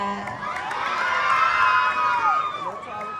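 A pageant audience at the Queen of Dagupan 2025 national costume segment bursts into loud cheering, whoops and high shouting that swells mid-clip and stays strong, with a voice over the crowd at the start.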